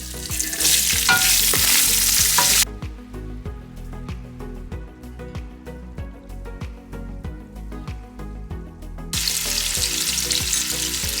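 Onions hit a hot pan for vegetable, beef, chicken and shrimp fried rice, a loud bright sizzle that drops to softer crackling frying with stirring clatter, then flares up loudly again.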